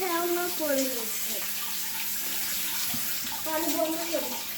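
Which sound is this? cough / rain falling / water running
water running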